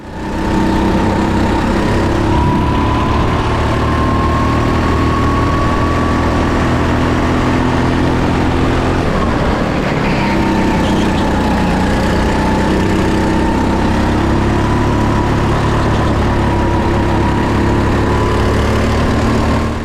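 A racing kart engine runs steadily in the pits at night during a six-hour enduro at Music City Kartplex, a loud continuous droning hum with a faint rising whine, close and alone without talk throughout.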